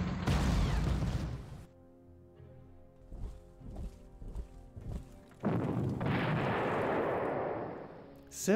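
Heavy artillery shots in the wargame Panzer Corps: a loud booming blast, a series of lighter thumps and clatter, then another sustained roaring explosion that fades out.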